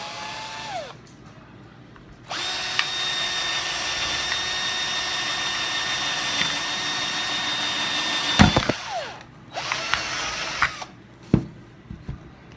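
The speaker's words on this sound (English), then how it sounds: "you can see when you punch through, you can feel it. You can actually feel it go through each layer of the lids." A power drill bores through a stack of self-healing port jar lids held against a board, giving a loud steady whine for about six seconds, then stopping, followed by a few shorter bursts as the bit punches through.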